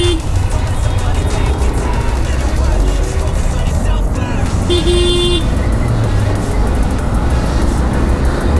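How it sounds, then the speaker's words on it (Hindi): Dense road traffic on the way to Ladakh, with loud engine roar and repeated car horn toots, one long honk standing out, heard up close from a motorbike; a voice talks over the din. "और यहाँ ट्रैफिक इतना है यार हद से ज़्यादा"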